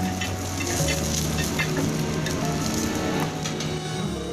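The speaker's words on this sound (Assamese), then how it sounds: "সেয়া অলপ সময়ৰ কাৰণে যাতে বাকলিৰ কেঁচা গোন্ধটো যায় ভাজি ল'ব।" Ridge gourd peel fries briefly in a pan with a light, continuous sizzle under a low steady background hum; no one speaks.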